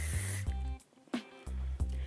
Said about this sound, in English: Now, we're gonna do a setting spray.